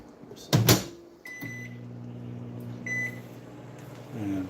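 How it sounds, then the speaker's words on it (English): A microwave oven warms cheese for lasagna soup, with a door clunk and beep at the start, then a steady low electric hum with a faint tone partway, close and alone. "right now we're just warming up the cheese to make it ooey and gooey in the microwave"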